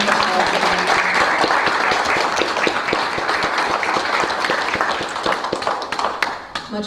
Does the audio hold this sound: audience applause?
yes